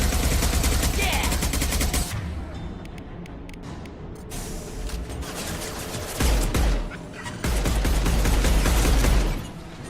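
Assault rifle fire in a video game: loud, close automatic bursts that crackle almost continuously, broken by brief pauses and heavier booming hits, with no talking.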